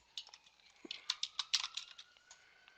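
Keystrokes on a computer keyboard as someone types a document name into a search field, a quiet run of soft clicks that quickens into a brief burst in the middle.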